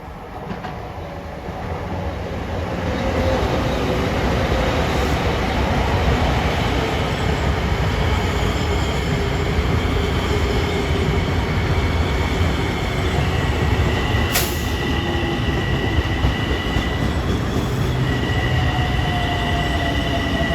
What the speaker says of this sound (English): Approaching on number 2 track is train 2064 at 5:36 en route from Penn Station to Ronkonkoma